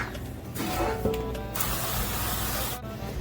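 Short hissing bursts from a spray bottle of cleaner, close by, a few quick squirts against a background of kitchen noise.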